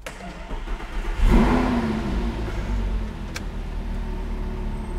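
Lamborghini Gallardo LP560-4 engine starting with a loud burst, then settling into a rough, steady idle, close up.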